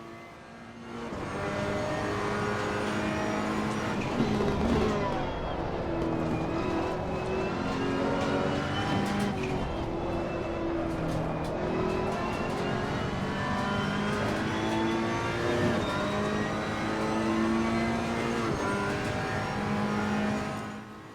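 A GT race car engine in Assetto Corsa Competizione at the Nürburgring drones loudly and steadily, pitch climbing and falling through gear changes and short lifts, continuous and close with no talk over it.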